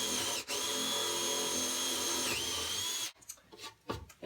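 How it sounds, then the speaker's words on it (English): A power drill bores a pilot hole into a prop tree stump, whining steadily and close for about three seconds, then stopping, followed by faint handling and knocking sounds. "So I'm going to start by making a pilot hole."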